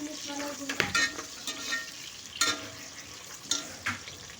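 Rice ingredients frying in a pressure cooker for bagara rice, a steady sizzle broken by a few sharp scraping stirs, close and moderately loud, with no talking.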